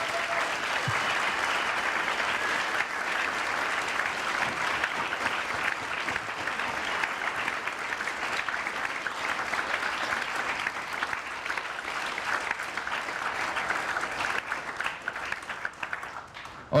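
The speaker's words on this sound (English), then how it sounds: "Can we please give one last round of applause for all of our candidates?" Sustained audience applause at a youth-led candidate forum, a steady dense wash of many hands clapping throughout, loud and even with no break.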